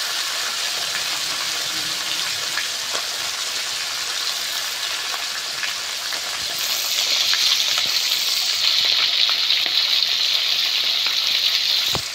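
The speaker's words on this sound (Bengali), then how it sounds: "এবার কড়াইতে সর্ষের তেল গরম করে মাছগুলো ভেজে নেব" Koi fish fry in hot mustard oil in a wok, a loud, steady sizzle that swells and brightens midway and then holds, with faint scattered crackles and no voices.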